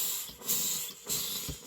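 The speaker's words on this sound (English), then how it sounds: "So we're going to take the iron on steam. You're not going to press. You're just going to put it lightly on there and then steam it." Bursts of steam hiss from an iron held lightly on fabric to shrink elastic into shirring, two or three broad surges rising and falling close by with no talk.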